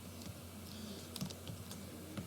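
Typing on a computer keyboard, a short run of soft, quiet key taps at an uneven pace over a low steady hum, no talking.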